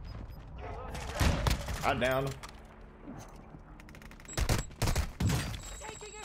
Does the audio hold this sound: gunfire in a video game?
yes